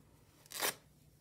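Scissors snip once through paper during card stencil crafting, a single brief, close, crisp cut in an otherwise quiet room.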